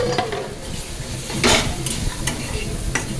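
Ash gourd greens stirred into shrimp masala in a wok: loud, close frying sizzle with repeated scraping strokes of a utensil against the pan.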